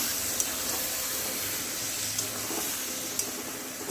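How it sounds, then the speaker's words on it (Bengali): Urad dal and vegetables fry in oil with a steady, close sizzle and crackle that goes on throughout, with a few faint pops and no voices. "কিছুটা কলাইয়ের ডাল তেলে কিছুটা হালকাভাবে ভেজে নেব"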